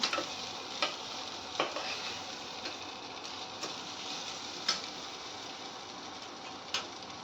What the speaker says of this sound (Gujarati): હવે આપણે બટાકાને સારા એવા મિક્સ કરી લીધા છે